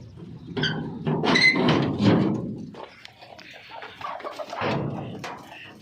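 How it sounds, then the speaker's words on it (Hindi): Backyard hens being let out of their coop, with a mix of clucks, flutters and a few thumps, close by and fairly loud in an outdoor setting, tapering off as the birds move away. "ये देखें जी, मुर्गियाँ जा रही हैं बाहर।"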